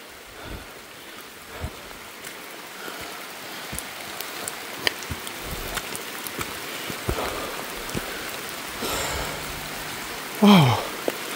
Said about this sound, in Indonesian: Kalau sekarang hujan jadi enak.